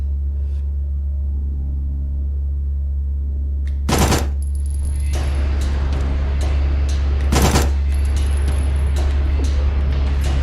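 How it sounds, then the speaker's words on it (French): Submachine gun fire in the video game Signalis: two short, loud automatic bursts cut through a steady low electronic hum, with faint mechanical clatter between them. "Est-ce que c'est l'heure d'essayer la mitraillette?"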